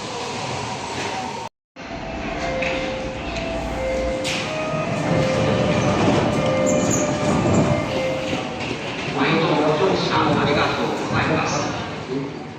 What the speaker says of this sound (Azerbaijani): Metronun içindeyim.